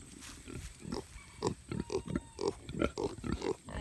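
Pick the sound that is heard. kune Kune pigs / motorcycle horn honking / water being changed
kune Kune pigs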